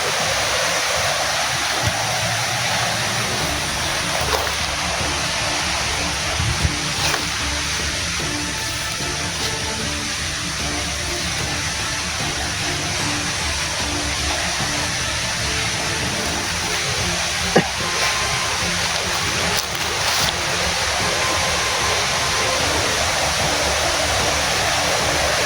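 A river flows near big trees in a forest, making a steady, loud rushing wash that runs unbroken for the whole stretch, with no voices over it.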